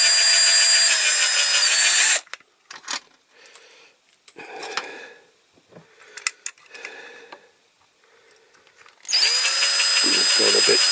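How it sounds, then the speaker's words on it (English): A small power drill with a fine bit whines loudly at the start and end, drilling out rivets on a Code 3 model Bedford skip lorry, with quieter handling clicks and taps in between. "I'll start with a small drill bit."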